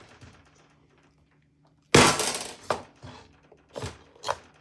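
A knife splits a whole spaghetti squash in half on a cutting surface. After a quiet start comes one sudden loud crack, followed by a few shorter, sharp knocks and cracks nearby, with no talking.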